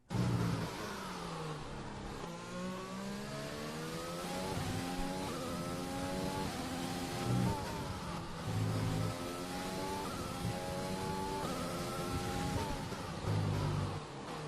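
A race car on a circuit brakes and downshifts into a corner, then accelerates out. The engine revs climb repeatedly in rising sweeps with brief gear-change dips, loud and close, and no talking.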